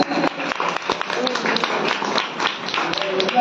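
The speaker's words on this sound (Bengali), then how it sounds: "হাততালি হয়ে যাক।" Applause at a blood donation camp honours ceremony in Bardhaman, a steady patter of many hands clapping throughout, mixed with voices in the crowd.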